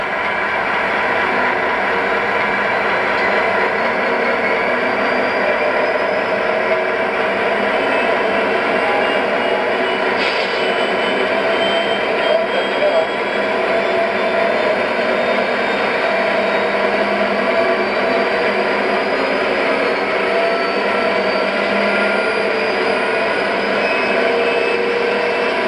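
A Lionel SD70ACE model locomotive on a Fastrack layout runs at full notch 8, giving a steady, loud, continuous mechanical whine and hum throughout with no breaks.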